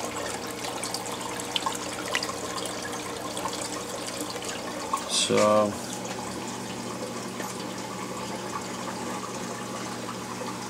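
WP40 wave pump churning water in an aquarium tank, a continuous rushing, gurgling wash at moderate level with a brief louder splash midway and someone talking over it.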